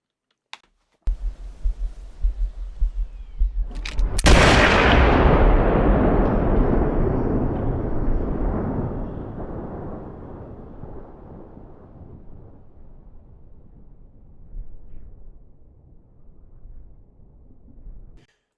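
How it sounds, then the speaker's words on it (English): A sharp, close blast of howitzer cannon fire sound effect follows a few light taps, then a long rolling boom that slowly fades out. "I can hear a little bird chirp on this howitzer cannon"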